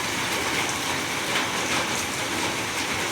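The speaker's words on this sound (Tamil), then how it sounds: "மழை பெய்யுறது தெரியுதா தெரியலன்னு சவுண்டு மட்டும் தான் கேட்குது" Early-morning rain falls steadily in the dark, a dense, even hiss of drops with no break and no voices.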